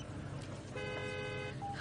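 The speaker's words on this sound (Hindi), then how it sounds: "कितनी ट्रैफिक है।" Congested traffic backed up at a federal checkpoint, with a steady low road rumble and a sustained car horn blaring for about a second over the hum, then a shorter toot near the end.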